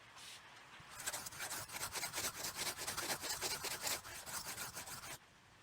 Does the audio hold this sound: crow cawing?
no